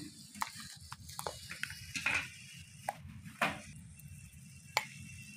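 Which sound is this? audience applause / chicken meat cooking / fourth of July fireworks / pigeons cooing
chicken meat cooking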